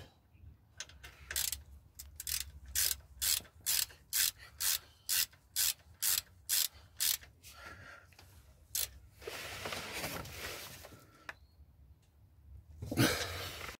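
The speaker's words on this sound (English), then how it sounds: "we're going to put the new washer that came in with the kit onto the sump plug, and then we'll put it back in" A ratchet refits the sump plug with a new washer on a Rover K series engine: a close, even run of about fourteen quick rasping strokes, followed by rustling and a final scrape.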